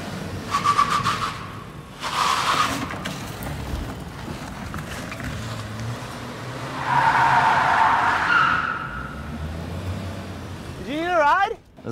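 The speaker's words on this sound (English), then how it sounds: "Just bought an RC car worth more than my car." RC car from Fortnite driving and skidding, with rough engine and tyre noise rising and falling over several bursts, a long scrubbing skid in the middle and a sharp whine at the end, plus background chatter.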